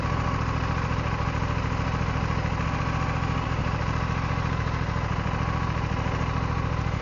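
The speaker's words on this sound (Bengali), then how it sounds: "কোল্ড স্টার্ট কমপ্লিট হতে 40 ডিগ্রি টেম্পারেচার যখন ইঞ্জিন পৌঁছায় তখন এটা ওকে মোডে চলে আসে" An Aprilia RS 457 motorcycle engine idles during a cold start, a loud, steady, close rumble with an even pulsing throb that holds without change throughout.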